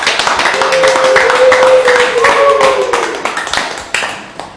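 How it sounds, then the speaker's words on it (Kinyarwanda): Sharp, close hand claps from a small group ring out over a sustained tonal hum, the clapping continuing through several seconds before thinning into scattered individual claps at the end. "mubanze mu nyongerero no mugaba amashyi"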